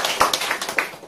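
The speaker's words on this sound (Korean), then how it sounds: "박수 좀 부탁드립니다" A short burst of applause from an audience at a business presentation, scattered hand claps heard at moderate volume, close by, with no one talking over it.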